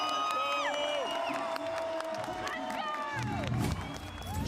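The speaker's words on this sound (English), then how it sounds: "Jubilation from the crowd as Fnatic have roared their way back into this." Crowd cheering and whooping at a professional esports match at the VCT Champions Istanbul 2022 Valorant event, loud jubilant shouts and applause swelling over several seconds beneath a caster's excited commentary.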